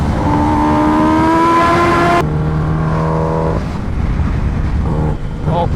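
Kawasaki Ninja H2R motorcycle engine at speed while riding, a loud steady droning whine that drops in pitch suddenly partway through, then settles to a lower hum mixed with wind roar.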